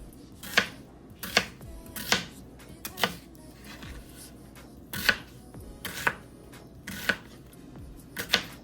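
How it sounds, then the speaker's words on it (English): A knife roughly chops an onion on a cutting board for spaghetti, a series of close, crisp, fairly regular thuds with short gaps between them. "This can just be roughly chopped."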